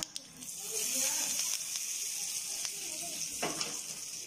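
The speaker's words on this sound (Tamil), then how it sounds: "காஞ்ச மிளகாய், இது நல்லா கொஞ்சம் ஃப்ரை ஆகட்டும்." Dried red chillies frying in hot oil for a chutney, a soft continuous sizzle and hiss with faint scattered crackles, fairly quiet and close.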